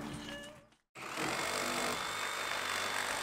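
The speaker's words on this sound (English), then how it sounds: "So I'm making some cuts here to enable us to remove more of the frame while Guy continued to work o" A reciprocating saw fitted with a carbide-tooth blade cuts through a conservatory frame during demolition. A loud, close buzzing rasp stops briefly, then restarts and holds a steady, harsh drone.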